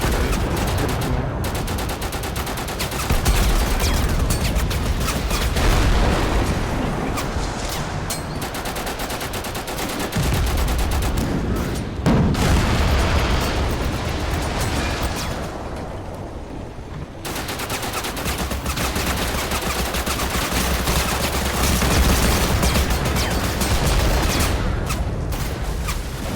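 Explosions and rapid gunfire in a tactical war video game, with an RPG streaking past, sound as dense, continuous bursts of automatic fire and blasts throughout, with brief lulls between volleys.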